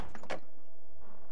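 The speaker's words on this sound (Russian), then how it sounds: "Холодильник." A fridge door opening in the survival video game The Long Dark, heard as a short, close clunk and latch click followed by a brief low hum, all within about a second.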